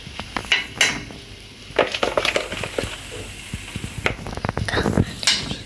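Overripe banana pieces sizzling in very hot oil in a pan, a crackling fry with metallic clinks and scrapes of utensils against the pan, close and fairly loud.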